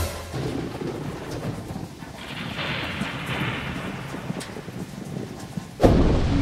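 Steady rain falls outdoors on a beach walk in the Phi Phi islands, with low rumbling thunder beneath it, and a louder close burst of wind or rain noise near the end.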